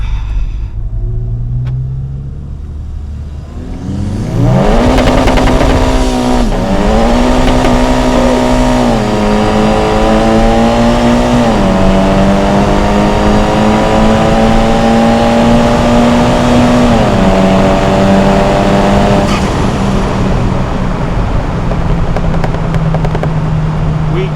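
Volkswagen Scirocco R tuned to 385 bhp driving at night, its engine rising in a strong, steady drone with repeated gear changes and revs climbing and settling, loud and continuous throughout.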